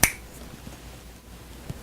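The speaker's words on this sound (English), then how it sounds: "I'm going to snap my fingers, you'll know the name of the ship." A single sharp finger snap cracks at the very start, followed by quiet room tone and a faint small tap near the end, with nobody speaking.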